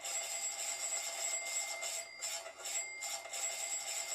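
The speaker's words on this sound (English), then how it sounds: "I want my little alarms to go off." An electronic alert from trading software chimes repeatedly, a bright high-pitched ringing pattern with brief gaps, steady and fairly loud throughout with no speech.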